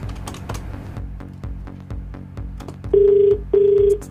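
Rapid keypad taps click out a number on a phone, then two long electronic ringing tones sound through the handset, close and fairly loud, with no voices.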